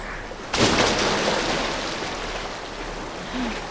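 Water in a Resident Evil 2 flooded level, video game: a sudden loud splash and rush that settles into a steady, churning wash of water and holds for several seconds.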